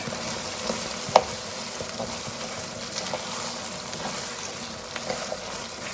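A spoon stirs chilli con carne with red kidney beans through a sizzling pan, giving a steady frying hiss with soft scraping and one sharp clink of the utensil on the pan, no talking.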